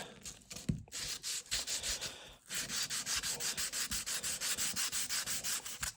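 An acoustic guitar saddle is rubbed on 400-grit sandpaper in close, steady back-and-forth strokes, with a brief pause partway through before the rhythmic scratching resumes.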